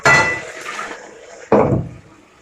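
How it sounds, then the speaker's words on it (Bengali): Water splashes and sloshes in short bursts as boiled hinche greens and potatoes from a pressure cooker are rinsed in a metal pot, two loud clattering washes with a quieter trickle between them. "প্রেসার কুকারে হিংচে আলু ভাতে সেদ্ধ করেছিলাম, সেটা ধুয়ে নিই ভালো করে"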